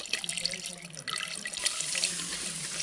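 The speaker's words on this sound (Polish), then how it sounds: "ten oto sprzęt ma tutaj teraz przyjąć 2 literki wody w siebie" Water pours steadily into a self-watering flower pot, a close splashing trickle with small gurgles that continues at low level throughout without talk.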